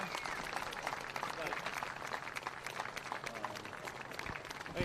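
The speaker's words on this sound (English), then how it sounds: "Big round of applause, ladies and gentlemen." Crowd applause for a runner-up at a 1/10 touring-car RC racing world championship awards ceremony, a quiet, distant wash of clapping with voices mixed in.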